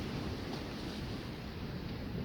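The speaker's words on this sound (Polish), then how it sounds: "Posłuchaj właśnie tych fal, mam nadzieję, że je słyszysz." Steady wash of sea waves with a constant broadband roar, close and fairly loud, with wind buffeting the microphone and no voices.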